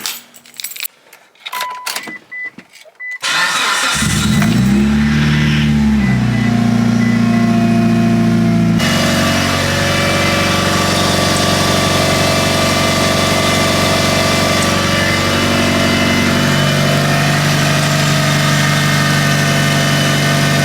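A Mitsubishi Evo 9 engine cranks briefly and then fires up close by, settling into a loud, steady idle that holds for the rest of the time after some faint clinks and rattles at the start.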